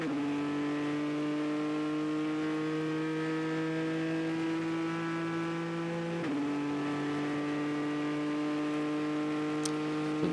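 Onboard engine of the Ford number 67 GT race car during the 24 Hours of Le Mans 2019, a loud steady high-revving drone held near constant pitch, with a brief shift dip partway through and no talk.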